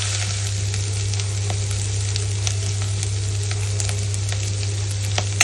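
Rice stir-roasted in a pan for kheer, sizzling steadily throughout with faint scraping stir sounds, close and fairly loud over a constant low hum, with no talking.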